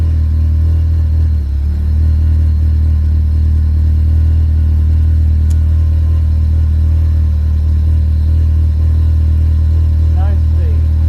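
Loud, steady car engine idling after the handbrake is released, a constant deep drone throughout with a faint brief squeak near the end.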